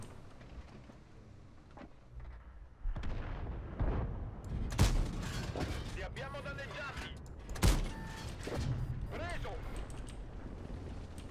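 Booming artillery blasts in World of Tanks, two sharp loud impacts standing out among rumbling battle noise, with people talking over it.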